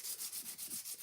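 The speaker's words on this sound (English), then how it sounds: "we're going to take our sanding pad and just go over this lightly" A sanding pad rubs back and forth lightly over a painted craft surface, a soft hissing scrape repeating in about eight even strokes, close and quiet with no voices.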